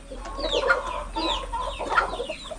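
Darag native chickens on a Philippine farm give several close, irregular clucks and short calls over a low background hum.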